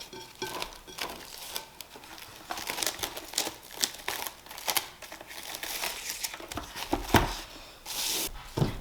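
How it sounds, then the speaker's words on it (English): Plastic wrap crinkles and rustles as it is stretched over a bowl of homemade bread dough, a close, continuous crackling with sharper bursts throughout, no talking. "cover that bowl with plastic wrap"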